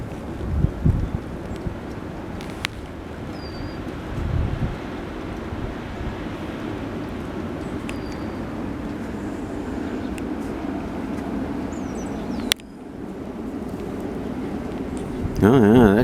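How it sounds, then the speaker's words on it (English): Strong, gusty high winds blow outdoors, a continuous rushing roar that swells and eases with the gusts and buffets the microphone throughout. "you can hear the gusts going up and down"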